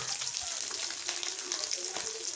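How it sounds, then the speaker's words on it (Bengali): Tengra fish frying in oil in a pan, a soft continuous sizzle and crackle heard alone at low level. "সবগুলো মাছ এভাবে ভেজে নিব"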